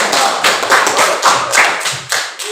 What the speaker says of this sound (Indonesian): Baik, mereka aplaus dulu.